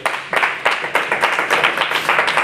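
A church congregation applauding during a sermon, steady rhythmic clapping from many hands that swells into a dense, close round of applause throughout.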